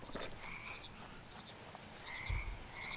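Frogs croak in the muddy overworld of the video game Mudborne, a few short throaty calls repeating irregularly over a soft ambient bed, with a deeper thump near the end.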